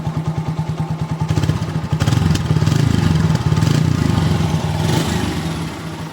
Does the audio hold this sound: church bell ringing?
no